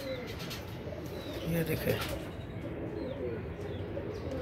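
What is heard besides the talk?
pigeons cooing and flying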